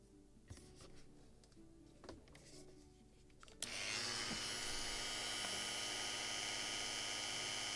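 Small drill boring a hole in a part for a model of the 1776 gunboat Philadelphia, a few light taps and clicks, then a sudden high steady whine of the motor running continuously close by.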